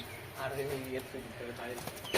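A pair of Giribaz pigeons sitting with their eggs and chicks give soft, low cooing, close by and largely masked by a person talking over them.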